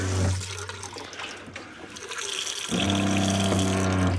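Tap water runs through a whole-home filter in a strong, close gush. It eases briefly midway, then returns with a humming, tonal rush, and no one talks.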